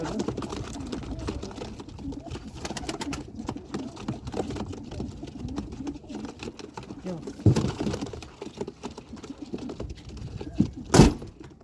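Pigeons in a home loft, a mix of ready flyers and young birds just starting out, coo softly and continuously amid scattered clicks and rustles, with one louder burst near the end.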